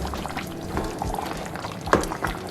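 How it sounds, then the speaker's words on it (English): A pot of Jamaican oxtail simmers close by with soft bubbling, gentle stirring and occasional wet pops over a low steady murmur. "our pot is simmering nicely"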